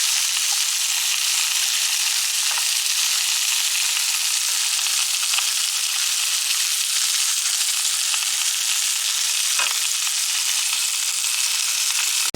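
Sliced, peeled medium brown onion frying in a pan, giving a steady, loud, even sizzle that holds unbroken throughout with no talking.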